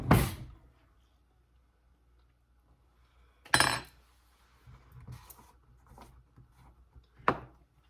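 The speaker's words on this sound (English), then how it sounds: "let me get a new knife to stir this one up" A knife works through a jar of almond butter. Sharp clinks against the jar come at the start, the middle and the end, with soft scraping stirs between them in an otherwise quiet room.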